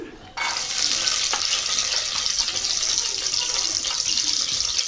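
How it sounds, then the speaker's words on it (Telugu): Garlic drops into hot oil in a cooking vessel and bursts into a loud, bright sizzle right away, holding a steady close crackle throughout. "అది బాగా వేడైన తర్వాత తెల్లగడ్డలు వేసుకుంటున్నానండి"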